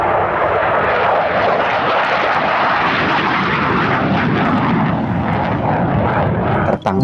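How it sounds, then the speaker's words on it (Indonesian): A toy jet airplane sound effect plays as a loud, continuous engine roar that holds steady for several seconds, with a brief dropout near the end. "Yuhu, keluarlah pesawat jet."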